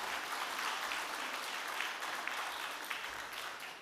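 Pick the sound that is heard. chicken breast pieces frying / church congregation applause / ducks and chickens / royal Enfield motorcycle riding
church congregation applause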